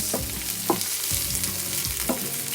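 Food fries in a pan with a steady, bright sizzle, punctuated by a few spoon scrapes and stirs at close range.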